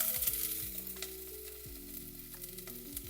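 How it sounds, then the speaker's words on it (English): Onion fries in hot oil for ramen with a faint, even hiss and occasional stirring ticks. A low, droning tonal hum runs underneath, and no voice is heard. "So to our hot oil, I'll add the onion."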